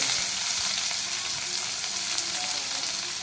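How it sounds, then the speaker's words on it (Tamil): Chopped onion and crushed garlic fry in a pan, giving a steady, soft, close sizzle with a faint crackle throughout and no talking. "ஒரு பெரிய வெங்காயம் கட் பண்ணி வச்சுருக்கேன், அதையும் போட்டுடலாம்."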